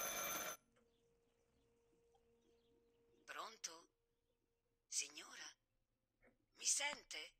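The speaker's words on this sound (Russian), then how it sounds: "Телефон." A telephone rings in the horror game Martha Is Dead, with three separate bursts of bright ringing spread evenly after a short loud noise at the start, over a quiet low background hum.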